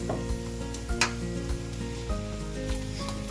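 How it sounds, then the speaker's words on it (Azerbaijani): Oil sizzles steadily in a pan while onions fry. A low, constant hum sits underneath, broken by a few soft clicks. "Yağda soğanı qızardırıq."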